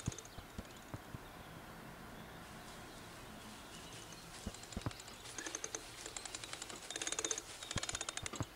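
Horse hooves clopping on a road as the horse pulls a cart in the Kentucky Route Zero video game, sparse irregular clip-clops that quicken into a denser run of knocks near the end, with no voices.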